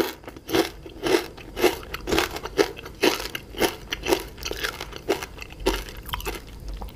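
Close, crisp crunching and chewing of deep-fried jackfruit leaves with fluffy fried snakeskin gourami fish served as a spicy salad, with about a dozen regular bites and crackles and no talking.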